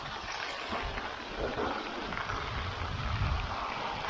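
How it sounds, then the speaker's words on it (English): Snow and icy rain come down steadily on an outdoor concrete job site, a broad, even hiss of precipitation with gusty wind noise rumbling underneath and no voices. "All the snow and icy rain's running right to me."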